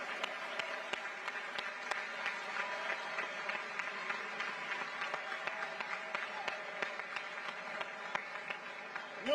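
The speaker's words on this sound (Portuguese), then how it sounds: "Un gran aplauso para el presidente Lula y para todos los líderes internacionales que nos acompañan aquí en Barcelona este fin de semana." Sustained applause from an audience honoring President Lula at an international progressive leaders' gathering in Barcelona, steady dense clapping throughout, heard from a distance with faint crowd murmur.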